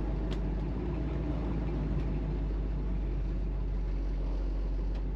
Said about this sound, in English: What do you guys think about the exhaust?